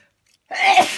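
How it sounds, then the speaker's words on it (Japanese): One loud, close sneeze erupts abruptly out of silence and trails off briefly. "久々のくしゃみ"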